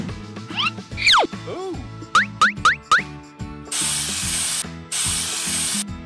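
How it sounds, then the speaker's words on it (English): Antiseptic sprays onto a wound in a Roblox game, heard as two bursts of loud hissing spray after a run of cartoonish squeaks and clicks over steady background music. "The doctor sprayed antiseptic on the wound for Blue."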